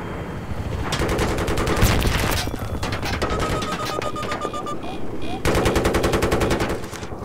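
Rapid automatic gunfire from the video game Battlefield 3 rattles in long, loud, continuous bursts. A short lull comes before the firing picks up again at full intensity.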